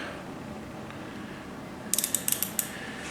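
A thread repair tool is backed out of a spark plug hole in an engine cylinder head, giving a short burst of crisp ratcheting clicks, about seven close together, over a quiet background.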